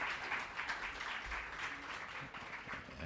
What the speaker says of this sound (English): Give the county a round of applause